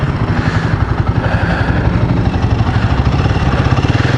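A Royal Enfield Guerrilla 450 motorcycle with a 450 engine running close by, a loud, steady rhythmic thump with a dense mechanical clatter layered over it.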